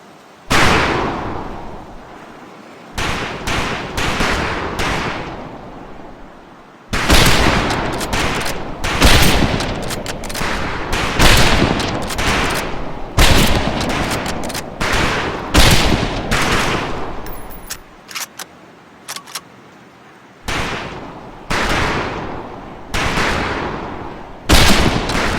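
Rifle fire at a training range in Medal of Honor: Pacific Assault, volleys of close, loud shots in repeated bursts separated by short pauses, continuing through the whole stretch.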